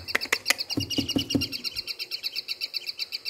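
A young songbird chirps rapidly nearby, a quick train of high, bright tweets with a few louder, fuller notes at the start.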